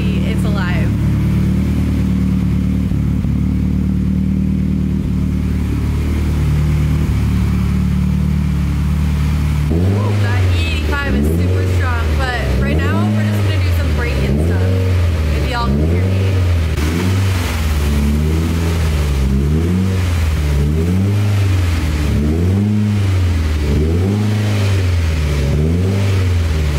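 An 800 hp Mitsubishi Evo 10 engine idles steadily, then is revved repeatedly in a rhythmic series of loud, close throttle blips over the idle, with people talking now and then.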